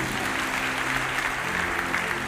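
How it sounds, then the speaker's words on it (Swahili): A church congregation claps steadily together for a woman at a Kenyan worship service, a dense, even patter of hands that holds for a couple of seconds with no pause. "Mpigieni makofi mazuri."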